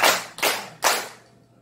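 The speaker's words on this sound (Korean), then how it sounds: "자 박수 3번 시작. 다시 한번 박수 3번 시작." Three sharp, loud bursts of unison clapping from a church congregation, evenly spaced about four tenths of a second apart, with the last clap trailing off into quiet.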